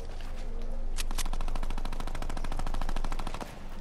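Rapid automatic gunfire in Fortnite rattles continuously in fast, even bursts, loud and close, with a couple of sharper single shots early on.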